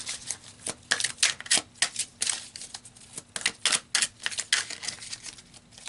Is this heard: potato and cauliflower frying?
no